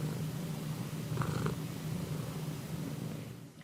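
A cat purrs steadily and close, a continuous low rumbling drone that holds throughout, with a faint brief tone in the background and no voices.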